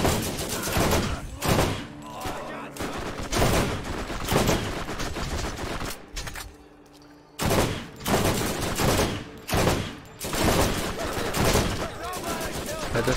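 Rapid automatic gunfire from a gun in the shooter game Borderlands, firing in loud repeated bursts with short pauses between them. A voice speaks faintly underneath.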